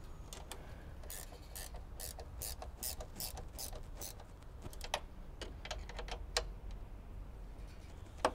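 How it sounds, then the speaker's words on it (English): A ratcheting spanner tightens a bolt on a VCM intake for a VE/VF SS, giving rapid, quiet clicking bursts in uneven runs over a low background hum. "being a ratcheting spanner, don't tighten it all the way to the end, because you'll bugger the ratchet"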